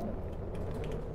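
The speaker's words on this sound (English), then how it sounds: "That noise is Angler, by the way." The Angler monster from the Roblox game Pressure: a dense, continuous rumbling roar with a grinding, mechanical texture, steady and fairly loud for its brief length, with no voices over it.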